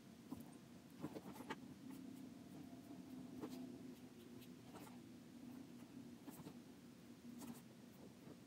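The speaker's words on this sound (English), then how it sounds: "Trace around it again with just a pencil." Pencil tracing around the edge of a cross-stitch mat, a faint, steady scratchy scraping with small irregular strokes, heard alone and close up.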